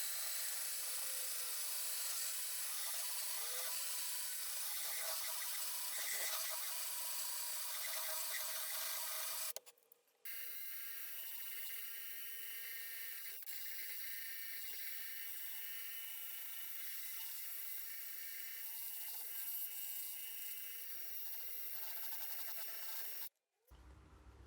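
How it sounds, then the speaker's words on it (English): Carbide burrs grind steadily inside a Corrado VR6 cylinder head as its ports are opened up, a continuous hissing, rasping whine that breaks off once around the midpoint and again briefly near the end. "now that I've done this side with the carbide burrs"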